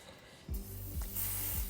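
Spray hisses onto a wig and bald cap in a short close burst, starting abruptly and continuing to the end.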